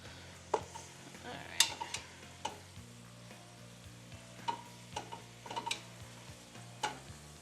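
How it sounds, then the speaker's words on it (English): Vegetables and meat brown in a hot pan, giving a soft steady sizzle broken by repeated sharp scrapes and clinks of a utensil stirring against the pan, close and fairly quiet, with no talking. "It's important to brown your vegetables and your meat"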